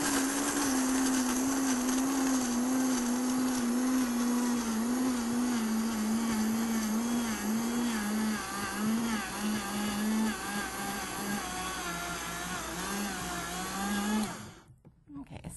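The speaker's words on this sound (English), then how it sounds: "This is the Vitamix." A Vitamix blender milling dry ingredients with its lid snapped on runs loud and steady for about fourteen seconds, its motor whine wavering slightly before cutting off abruptly near the end.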